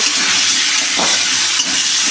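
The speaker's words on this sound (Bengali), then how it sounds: "এবার আলুটা দিয়ে হালকা করে একটু ভেজে নেব" Potatoes fry lightly in a pan, giving a steady, loud, close sizzling hiss that holds evenly throughout, with a brief stir-like rustle midway.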